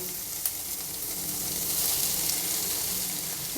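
Finely chopped carrot and onion fry in a pan for a traditional Malnad rice kadubu, a steady close sizzle with a soft crackle throughout and no talking.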